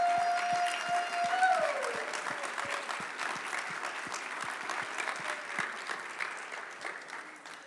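An audience applauds students at a morning gathering: sustained, even clapping from a room full of people that slowly tapers off.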